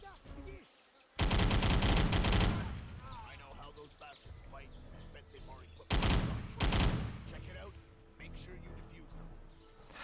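Video game machine gun fire in a mission, two loud sustained bursts of rapid shots separated by quieter stretches, with a voice talking throughout.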